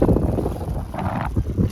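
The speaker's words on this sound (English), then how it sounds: "Y'all can feel this wind here." Strong wind buffeting the microphone aboard a sailboat on Puget Sound, a loud low rumble throughout with a brief hiss in the middle and no speech.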